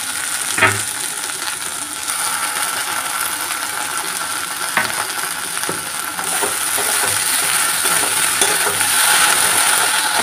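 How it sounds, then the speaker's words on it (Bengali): A spice paste of cumin, ginger, garlic and chilli fries in a pan with a loud, continuous hiss, broken by occasional scraping and clinking as it is stirred, and the frying grows slightly louder toward the end. "এর মধ্যে মশলাটা দিয়ে কষাবো।"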